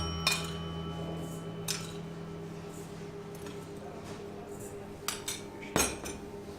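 A spoon clinks and scrapes against a bowl while sugar is worked into egg yolks for tiramisù, with a few sharp, close taps scattered over a quiet kitchen hum.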